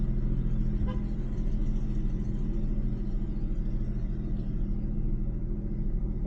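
A Ford Mustang with excessive toe-in drives on a test run, heard from inside the cabin as a steady, low road rumble and engine drone that holds even throughout.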